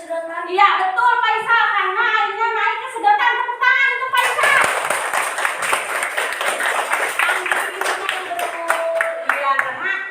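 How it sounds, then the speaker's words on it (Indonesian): A classroom of children claps for a student named Faisal, a dense burst of hand claps starting partway through and continuing steadily after a teacher's voice, with scattered children's voices mixed in. "Tepuk tangan untuk Faisal."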